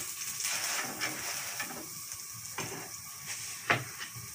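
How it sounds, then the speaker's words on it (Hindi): A Punjabi paratha frying in a pan, giving a soft steady sizzle and hiss with a few sharper crackles and one brief pop near the end. "तो बाहर ये पराठा तला जा रहा है"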